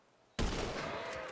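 A single sharp gunshot in a roleplay video game bursts in after a short quiet lead-in, followed by a sustained, noisy ringing tail.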